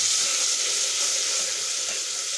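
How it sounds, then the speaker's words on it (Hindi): Garlic and green chilies sizzle in hot ghee, a constant bright crackling hiss heard up close and unbroken for a couple of seconds, with no voices. "मैंने घी रख दिया, घी भी गर्म हो चुका है। अब इसमें बीच में डालूंगा लहसुन और सब्ज़ मिर्च।"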